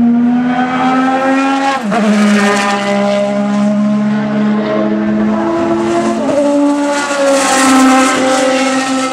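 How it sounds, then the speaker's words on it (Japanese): A McLaren Honda MP4/6 Formula One car on a legends demonstration run at Suzuka during the 2013 Japanese Grand Prix screams loudly at high revs, its tone dropping sharply at two gear shifts, with no voices. "スプーンカーブの皆さんのところに行きます。 マクラーレンホンダ MP46"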